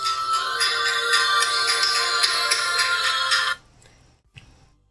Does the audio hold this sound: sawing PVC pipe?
no